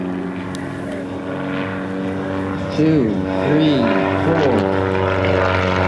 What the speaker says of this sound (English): 150 horsepower engine, beautiful running engine.